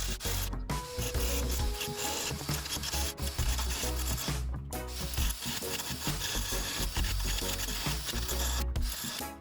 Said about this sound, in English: we're gonna use the drill with a Dremel bit on it